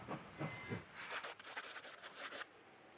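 A train in the video game Last Train Home rumbles along the track with hissing, scraping bursts and a few soft thumps, moderately loud, with no talk.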